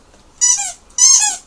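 A dog's squeaky toy squeaks twice in quick succession, loud and close, each squeak a shrill wheeze, with quiet pauses between.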